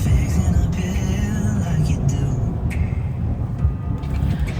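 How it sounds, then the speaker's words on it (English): A small race car passes along a storm-damaged street after Hurricane Dorian, its engine swelling and fading amid steady road rumble, with brief voices nearby. "Oh, that little race car."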